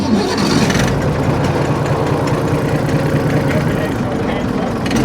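A Chamberlain Countryman 6 tractor engine runs steadily at idle, a close, loud, continuous low chugging throughout with a faint rattle over it.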